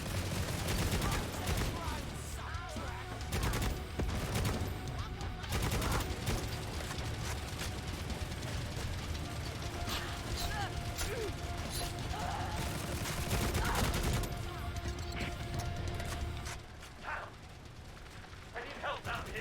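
Dense, rapid gunfire from the video game Necromunda: Hired Gun, with clattering mechanical clicks, runs almost nonstop and loud while a voice talks over it.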